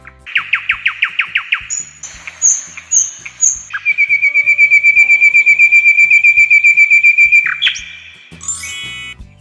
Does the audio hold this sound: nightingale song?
yes